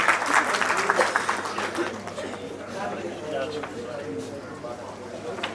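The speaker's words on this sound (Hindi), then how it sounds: "एक बार बहुत जोरदार तालियां उनके लिए बजा दें।" A crowd at a community book launch event claps in applause, a fairly loud burst of many hands early that fades into murmuring chatter and a speaking voice.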